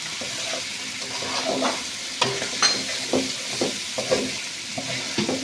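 Chicken and mixed vegetables fry in a pan with a little soy sauce, giving a steady close sizzle broken by several sharp scraping stirs of a spatula, with no voice.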